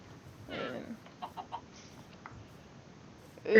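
Chickens cluck on a chicken farm in a building or farming video game, a few short clucks and a rooster-like call spaced across a quiet background, alone without speech.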